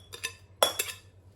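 A spoon mixes a chickpea salad with sauce in a bowl, producing a few close, faint clinks and scrapes of utensil against the dish, spaced irregularly over a low background hum.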